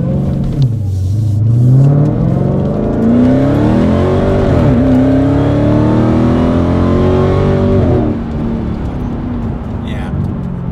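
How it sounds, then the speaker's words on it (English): Dodge Challenger Hellcat fitted with an MBRP race exhaust revs hard, engine note climbing and falling through several throttle blips, loud and close before settling to idle. "Let's hear it with a little throttle to it."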